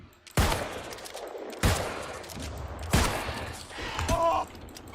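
Three loud musket shots crack out about a second apart in the fantasy game New World, each a sharp blast with a brief echoing tail, and faint game ambience lingers between them.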